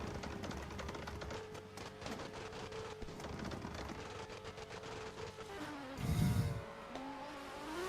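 Drift cars, a Supra and a Mustang, launching together at a street spec drift competition, with engines droning and buzzing at a distance and a louder rumbling surge near the end, and no talk.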